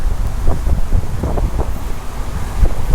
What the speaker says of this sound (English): it's going to be a little bit windy